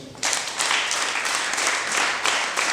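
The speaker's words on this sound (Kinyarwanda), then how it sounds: "mwongere mubabere amashyi" An audience at a wedding ceremony applauds, a dense, steady wash of many hands clapping together that starts abruptly and carries on without a break.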